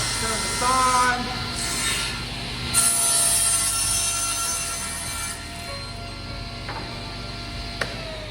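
A table saw makes a crosscut through a board on a sled, with a steady mechanical hum and rubbing, scraping wood sounds close by, plus a few light knocks and ticks toward the end.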